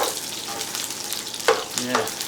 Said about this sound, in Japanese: はい、炒まってきた。 ほら、音が出てきた。